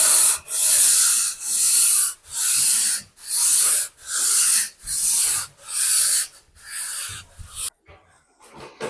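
A freshly puttied ceiling is sanded by hand in eight even, rhythmic strokes, each a loud close scraping rasp with short pauses between, before the work stops and a few faint knocks follow.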